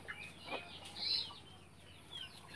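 Domestic local hens on a small backyard farm in Assam, giving faint, soft clucks and brief calls at a distance over a quiet background hum.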